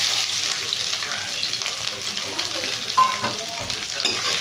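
Grated coconut and cumin seeds fry in a pan for a coconut tomato chutney, giving an even, close, hissing sizzle with light crackles and the odd soft stir.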